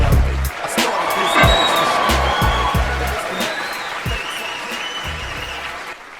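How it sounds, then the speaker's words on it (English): A burst of canned applause from a phone video-editing app, dense clapping heard close and loud, thinning slightly toward the end. "Thank you for that thunderous artificial applause from my iPhone video editing app"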